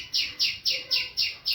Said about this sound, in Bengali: কি সুন্দর পাখি ডাকছে